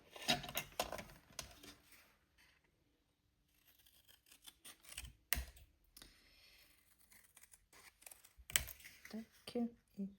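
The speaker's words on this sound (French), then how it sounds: "Donc, je vais découper ce que j'ai besoin" Paper is cut with scissors for a handmade 18th birthday card: close, crisp snipping and rustling in short bursts, with a silent pause between them.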